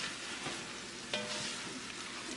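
Jambalaya with minced garlic being stirred in a pot, a faint steady sizzle with a few light scrapes of the spoon, close and quiet.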